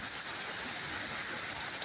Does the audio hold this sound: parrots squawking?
no